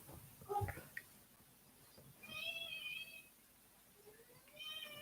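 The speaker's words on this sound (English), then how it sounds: "And now I hear a cat." A house cat meows a few times indoors, drawn-out tonal calls at moderate distance, with a brief knock or bump before them and quiet room noise between.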